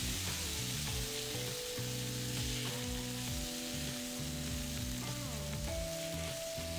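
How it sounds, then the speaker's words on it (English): Fire-roasted tomatoes fry in a pan with a continuous close sizzle over a steady tonal background, and no one speaks. "what you're gonna add in next is your fire roasted tomatoes. You wanna wait until the liquid is released and then dries up once again."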